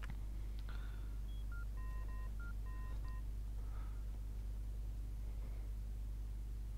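A telephone is dialed in the video game Fahrenheit: a quick series of short touch-tone beeps over a constant low hum and faint room noise, with no talk.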